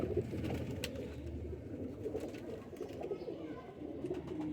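Flown pigeons of a prized Pakistani banded breed coo steadily and close by, with overlapping low throaty calls running through the whole stretch.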